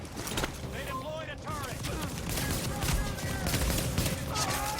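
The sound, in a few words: machine gun turret firing in video game The Division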